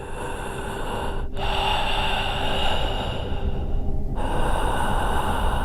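Heavy, steady breathing of the pigman, a menacing figure in a horror story, sounding as a continuous loud rasping hiss with snort-like breaths and brief pauses, close and unbroken throughout.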